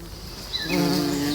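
Honey bees hum inside a busy beehive, a dense close buzz of beating wings that swells louder partway through and holds steady, with no voices.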